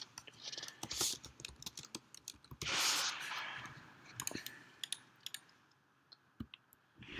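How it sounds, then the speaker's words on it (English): Fingers tap out a burst of keystrokes on a computer keyboard, quick uneven clicks with a couple of louder clustered clatters, close and fairly quiet with faint breathy sounds between. "type in site plan"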